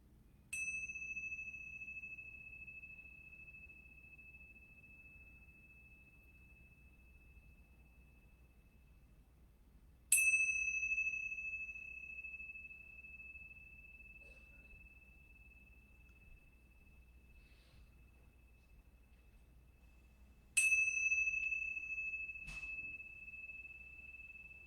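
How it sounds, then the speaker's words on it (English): Three bells close a yoga class during relaxation, each one struck once and left to ring out in a long, clear, fading tone, evenly spaced about ten seconds apart in an otherwise quiet room. "I'm going to ring these bells 3 times."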